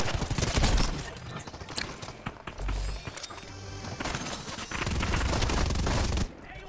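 Scattered gunshots in a Fortnite match ring out amid a loud, cluttered game mix, with sharp cracks coming in clusters and dense noise building toward the end.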